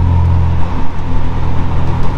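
A Renault Spider, a small mid-engine sports car with a tubular chassis and fibreglass body, drives past loud and close, its engine giving a steady low rumbling drone that wavers slightly, with no voices.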